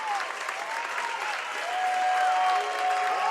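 A crowd at a high school basketball game applauds the seniors, steady clapping and cheering under sneaker squeaks on the court floor.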